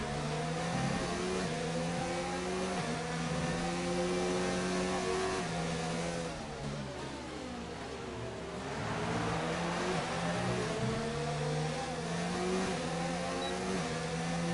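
Formula race cars in a racing video game whine at high revs, several engines layered with rising and falling pitch as they shift through corners, loud and continuous, with a brief dip as revs drop before climbing again.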